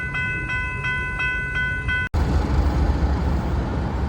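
An Arkansas & Missouri Railroad transfer train with ALCO locomotives entering the Fort Smith Railroad's yard, rhythmic clanking and a tonal ringing of railcars, then a steady rumble of rolling train, heard from nearby without talk.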